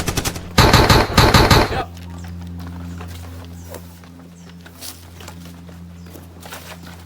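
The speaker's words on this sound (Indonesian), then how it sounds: "suara tembakan memecah suasana" A loud burst of rapid gunfire from a battle reenactment rattles off in quick succession for about a second, then gives way to a quieter hum with scattered clicks and faint movement.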